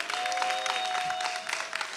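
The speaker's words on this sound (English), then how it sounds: "give yourselves a round of applause" Applause from a conference audience, a brief burst of many hands clapping under a steady tonal hum, moderately loud and continuous throughout the short stretch.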